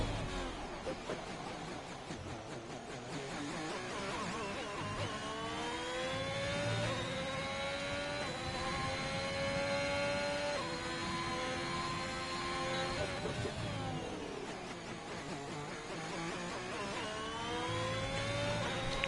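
A race car engine from a racing video game screams through an onboard lap of the Bahrain International Circuit, loud and steady, its pitch climbing through the gears, holding high on a long straight, then dropping under braking and rising again.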